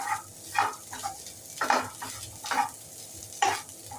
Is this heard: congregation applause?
no